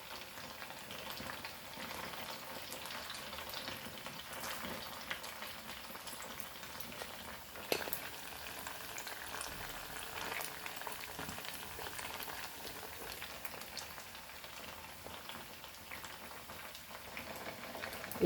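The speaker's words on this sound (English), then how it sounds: "You have to fry this crispy." Sabudana vada, tapioca pearl patties, fry in hot oil with a steady, soft, crackling sizzle that runs on evenly at low volume, with no one talking.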